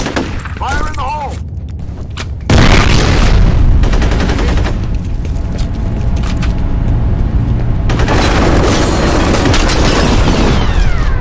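A grenade detonating during an online F.E.A.R. Combat match: a brief voice, then a sudden loud explosion that gives way to sustained heavy gunfire and further blasts.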